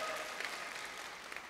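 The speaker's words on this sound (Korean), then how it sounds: "누구한테 박수를 친 거예요 지금?" A church congregation applauds during a sermon, a brief, steady wash of clapping that sounds somewhat distant and fills the whole short moment.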